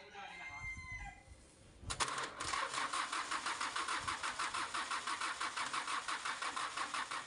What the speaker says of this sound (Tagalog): napaandar na namin yung sasakyan. Na-start na namin.